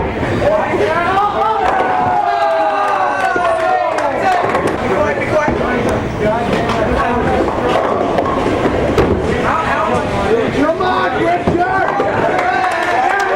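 A crowd of fans cheers at a high school bowling match, a dense, steady roar of voices and clatter from the lanes lasting throughout, with a commentator's voice running underneath.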